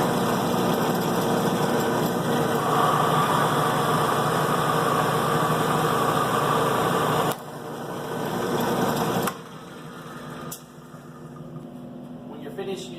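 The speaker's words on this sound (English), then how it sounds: "So I'm going to go and make a cut." A drill press runs and bores a cut, giving a steady loud motor whir that drops in level twice as the drilling goes on.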